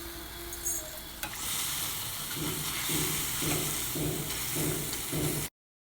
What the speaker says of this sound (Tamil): இந்த பெருங்காயத்தையும் இந்த வெந்தயத்தையும் நல்லா வறுத்துக்கிறேன்.